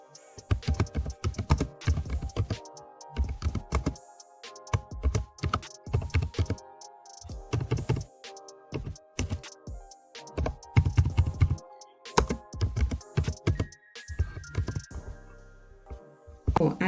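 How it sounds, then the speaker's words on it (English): Typing on a computer keyboard, with bursts of quick, close key clicks separated by short pauses while a question is entered into a form. "I'm just going to type my question in here."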